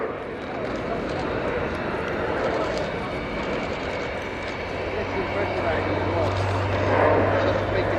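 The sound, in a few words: military transport aircraft flying at air show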